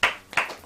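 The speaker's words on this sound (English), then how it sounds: "An immediate clap." Hand claps at a space-themed live comedy show, three sharp bursts spaced evenly and close by, with no talking over them.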